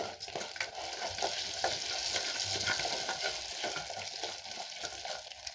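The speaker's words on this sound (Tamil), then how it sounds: "இப்போ நம்ம வெங்காயம், பூண்டு, வரமிளகாய் இதை போட்டுக்கலாங்க." Onion, garlic and dried red chillies hitting hot oil with popped mustard and fenugreek seeds for a Kovai-style fish curry, giving a loud, steady, close sizzle throughout without any talking.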